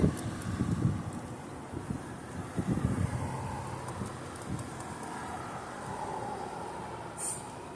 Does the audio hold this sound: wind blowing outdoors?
yes